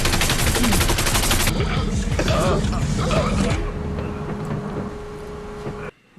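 Gunfire in a Breaking Bad episode, a dense burst of rapid shots and loud mechanical clatter filling the first seconds, then scraping, creaking and engine-like rumble with a voice talking over it before it cuts off.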